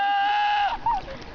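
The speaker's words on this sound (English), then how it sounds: "is goat yelling like a man." A goat bleats with an eerily human, shout-like voice: one long, loud, strained cry, then a brief rising yelp, close and clear with no talking.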